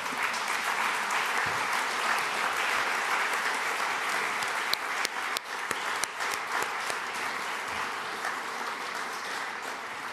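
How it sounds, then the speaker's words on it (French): Sustained applause from a conference audience in Djerba, Tunisia, dense and even clapping filling the room for about ten seconds, with a few sharper claps near the middle. "Ça mérite quelques applaudissements."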